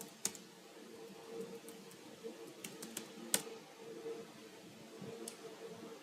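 Keys tapped on a computer keyboard to type a search query, a quiet, irregular run of soft clicks with a few sharper taps over low room hum.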